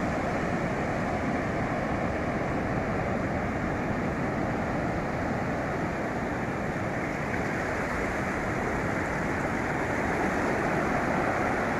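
Calm sea at Guriri beach in São Mateus, Espírito Santo, a dense, continuous wash of gentle surf noise that holds steady and fairly loud throughout, with no voices.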